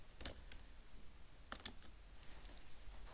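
Keys tapped on a computer keyboard while writing Excel VBA code for an advanced filter, giving a few scattered soft clicks in two loose bursts over a quiet room hum.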